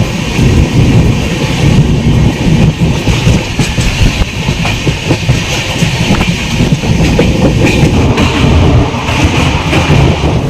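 An overnight train to Darjeeling from Bardhaman rolls along on a foggy morning, heard from inside as a loud, continuous rumble with steady clickety-clack of wheels on rail joints throughout, no voices.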